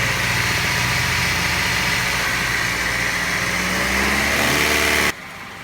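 A former taxi car's engine idles steadily with a constant hum and rain noise during air-conditioning refrigerant work, then cuts off abruptly near the end.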